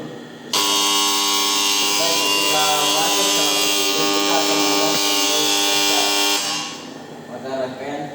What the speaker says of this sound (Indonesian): Siklus itu berulang selama 3 kali sehingga buzzer akan berbunyi.